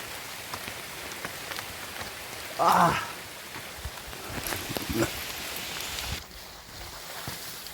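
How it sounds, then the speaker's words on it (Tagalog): Continuous heavy rainfall patters steadily, with a brief louder splash or rustle partway through and the downpour softening toward the end. "Malakas yung ulan."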